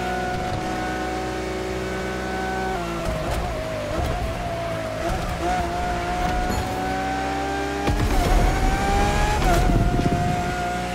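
A car in The Crew Motorfest racing game roars continuously at high revs, its engine pitch sliding with gear changes while tires squeal during hard cornering; loud and steady, with no talk.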